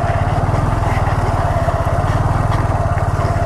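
Honda Grom motorcycle engine running steadily while riding sit-down circles, a close, loud, even single-cylinder drone with rapid regular pulsing and no talk throughout.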